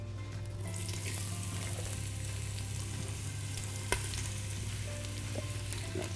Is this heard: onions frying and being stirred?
yes